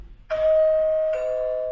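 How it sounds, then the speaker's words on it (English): Doorbell chime resembling a supermarket announcement: two clean electronic ding-dong notes, the second lower and sustained, loud and close with nothing else heard. "I found a doorbell that sounds a little bit like the supermarket announcements"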